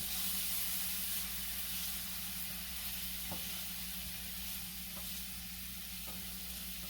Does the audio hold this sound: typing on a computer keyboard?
no